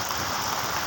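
Heavy rain from the first rains of the year falls at Nalco in Angul. It makes a dense, constant, loud hiss with no breaks and no voices.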